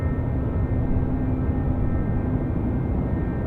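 An Emirates airliner powers down runway 34 left at Sydney Airport on takeoff in a westerly wind, a loud, steady low engine roar with a faint tonal hum, continuous and unbroken.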